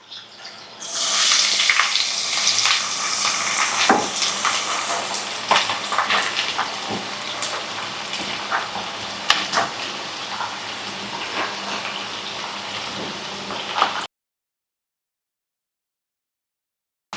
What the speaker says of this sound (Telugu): ఉల్లిపాయ, క్యారెట్, క్యాబేజీ, పచ్చిమిరపకాయలు తరిగి పెట్టుకున్నాం కదా, ఆయిల్లో వేసుకుందాం